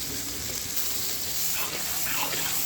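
Chopped garlic and red and green chilies frying in hot oil for Bogura aloo ghati, a steady close sizzle with some stirring and watery hiss throughout.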